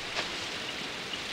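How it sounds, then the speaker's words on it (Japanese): Steady rain falls in the Moomins cartoon, an even wash of patter with a few slightly louder drops, no voices. "この雨長くは続かないな。"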